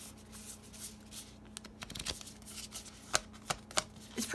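Cards from an Umbrella Academy board game player deck being handled, soft riffling, flicking and light tapping, quiet and close, with a few sharper snaps near the end.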